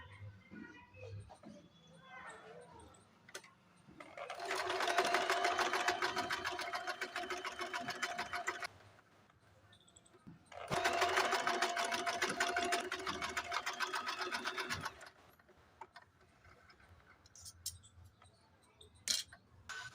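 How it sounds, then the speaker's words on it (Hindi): Sewing machine stitching half-inch tucks diagonally on a blouse, two sustained runs of steady rapid stitching separated by a pause, with light handling clicks before and after and no talk. "यहाँ से हाफ इंच लेके हम यहाँ से यहाँ तक तिरछे में इसकी सिलाई कर देंगे"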